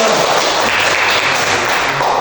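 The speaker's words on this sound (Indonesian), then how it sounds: "kita tepuk tangan untuk kelompok" Sustained applause from a university class for a student group's Pancasila presentation, a dense continuous wash of many hands clapping, loud and close, with no talk over it.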